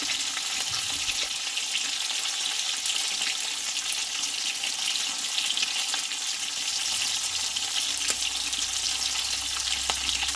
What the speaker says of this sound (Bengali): দিয়ে মাছগুলোকে ভেজে নেবো নিয়েছি সিলভার মাছ